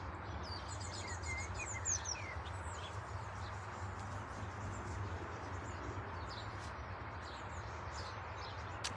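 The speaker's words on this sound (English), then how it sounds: "Hoping you can hear the birds here as well." Faint birdsong, scattered chirps and trills, drifts in from a distance over a constant low rumble of background noise.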